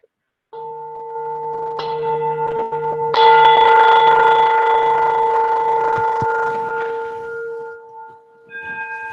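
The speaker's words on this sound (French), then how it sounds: "Voilà pour la cloche." A meditation bell is struck at the start of a Christmas meditation session. Its steady ringing tones swell when struck again and sustain for several seconds before fading, with no talking.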